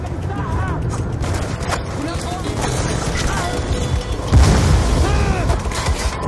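Gunfire and explosions from the Black Ops 2 campaign, a dense continuous battle din with a heavy blast about two-thirds through, game voices and effects layered over the fighting.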